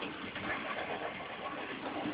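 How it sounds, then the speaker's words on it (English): An HO-scale model train locomotive running on its track at very low controller current, giving a soft, steady whirring hum that stays constant and close throughout, with no voices. "this particular engine runs very well on low current"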